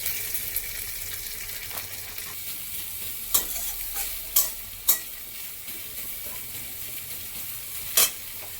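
Chopped onion fries in a pan with a steady, moderate sizzle, broken by a handful of sharp clicks of a utensil against the pan.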